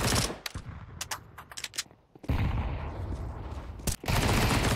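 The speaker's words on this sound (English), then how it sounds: "Keen does make that AK work." AK rifle fire in a Counter-Strike match on the Mirage map: scattered sharp single shots and short bursts, then a long sustained spray of rapid automatic gunfire, loud and close.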